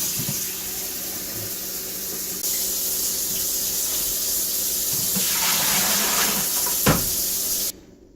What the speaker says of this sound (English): I'm going to put 2 gallons of water in here.